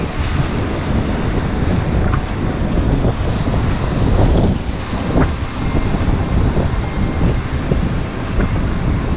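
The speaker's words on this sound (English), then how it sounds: "it was really catching the wind which made casting and retrieving a bit of a mission, especially being so high up" Strong wind buffets the microphone on a high cliff-top fishing spot during a big storm, a loud, continuous roar with gusty surges and no speech.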